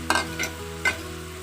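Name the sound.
onion and tomato frying in a pan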